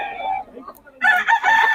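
A rooster crows loudly nearby at a market in Bocaue, Philippines, its drawn-out call rising and breaking, with other fowl calling in the background and no speech.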